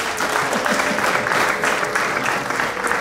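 Guests at a traditional Rwandan wedding ceremony clap in sustained, even applause, a dense crowd sound that stays loud and steady throughout with no pause.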